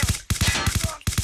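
Rapid bursts of automatic gunfire in a battle-royale shooter game, loud and close, firing in quick regular volleys with a brief pause before resuming.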